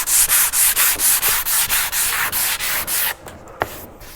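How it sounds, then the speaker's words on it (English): Hand sanding of wood along the grain, about a dozen even back-and-forth rasping strokes in steady rhythm, close and loud, ending with a couple of light knocks. "That's why when you're sanding, you always want to go with the grain."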